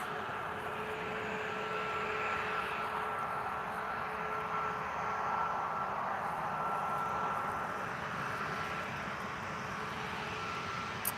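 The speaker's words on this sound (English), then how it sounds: "I wonder if it's a Ryanair or is this an Air Europa? Let's see when it turns." A Ryanair passenger jet at Lisbon Airport gives a steady, distant engine roar with a thin whine on top, holding at a constant level throughout with no talk.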